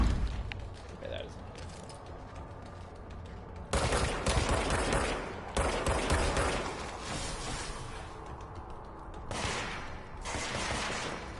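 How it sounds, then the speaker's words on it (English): Enemy gunfire in the Control video game crackles in bursts of rapid shots, loud and close, alternating with quieter stretches of game noise while a player talks over it. "Oh, they're shooting at me."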